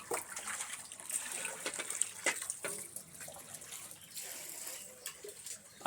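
Water pours down in a steady, fairly close rush with splashy fluctuations, continuous throughout.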